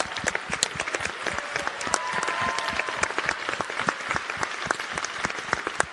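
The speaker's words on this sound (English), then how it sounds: "Big round of applause." Audience at an event on youth participation in the HIV response giving a round of applause, crisp dense clapping with distinct sharp claps throughout, fairly close and sustained.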